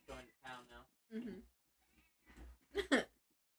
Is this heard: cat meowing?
yes